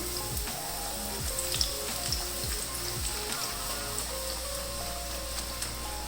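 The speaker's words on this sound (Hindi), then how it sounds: "अब पूड़ी को बहुत एहतियात के साथ में इसके अंदर डाल दूँगी और इसको चम्मच की हेल्प से ऐसे ऑयल ऊपर डालेंगे" A poori deep frying in hot oil while oil is spooned over it to puff it, a steady close bubbling sizzle with scattered crackles throughout, no voices.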